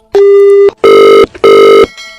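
During a prank phone call, the line drops and a telephone call-failure tone plays loud and close: three flat electronic beeps, each about half a second long, separated by short gaps, followed by a faint tail.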